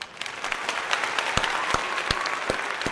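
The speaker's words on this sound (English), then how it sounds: "Why isn't my round of applause working?" A round-of-applause sound effect playing on a boxing fight companion livestream, steady clapping with a few sharper claps standing out, moderately loud and alone.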